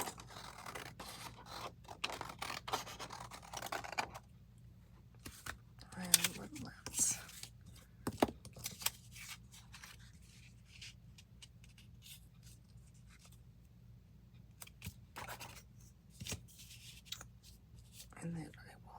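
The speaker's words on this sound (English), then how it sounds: "try using my scissors" Scissors snip through junk mail envelope paper in quiet, irregular cuts with faint scraping and rustling, a soft whisper-level voice occasionally underneath.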